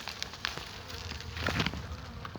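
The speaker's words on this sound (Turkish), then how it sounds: "Bunlar sizlere doğal organik balları üretti. Çok çalışkan arı gibiler sanki." Honeybees buzzing around hives at an organic honey apiary, a steady close insect drone with individual bees passing near, no voices.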